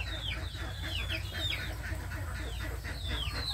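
Several chickens cluck and chatter nearby in overlapping bursts over a low, steady rumble.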